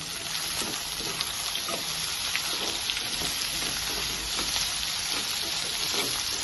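Carrot pieces fry in a pan with a constant, even sizzle and crackle, steady and close throughout, with a few faint stirring clicks underneath.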